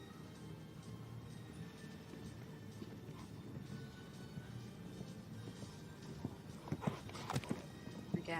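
Horse hooves in a para dressage arena, a soft rhythmic clip-clop running steadily through the clip, with a few sharper, louder hoof strikes near the end over a faint arena hum.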